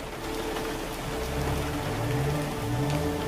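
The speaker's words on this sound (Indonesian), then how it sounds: "Tadi pas jalan pulang terus hujan besar" Heavy rain falls steadily and densely on a surface, a loud continuous wash with a low rumbling undertone that swells slightly midway, with no voices present.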